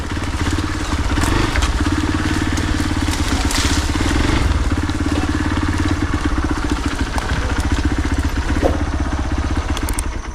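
A motorcycle engine drones steadily and loudly up close on a steep off-road trail, a continuous throbbing rumble with occasional clatter and thumps.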